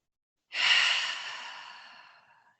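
A single slow, deep exhale during a yoga stretch starts abruptly after a short silence, then fades gradually as a soft, airy breath, close and alone.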